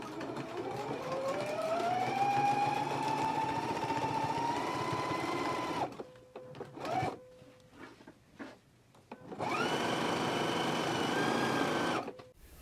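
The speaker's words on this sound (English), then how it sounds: "we can go to the sewing machine and we can stitch it all the way across at a 5/8 of an inch seam allowance" A sewing machine stitches a bodice to a skirt along a 5/8 inch seam, one long steady whirring run, then a pause with a few clicks and short stops, then another sustained burst of stitching.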